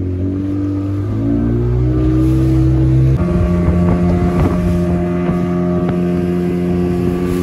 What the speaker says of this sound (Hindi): ये हो गई बोट राइड शुरू